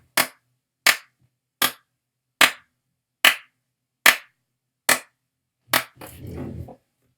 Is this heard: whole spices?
no